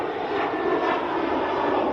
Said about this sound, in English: Aer Lingus props just passing Cheadle